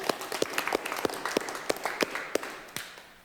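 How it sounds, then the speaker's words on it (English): A small group gives a round of applause, sparse individual claps standing out sharply over a softer clapping bed, close and lively, tapering off at the end. "Let's give a round of applause for Joe."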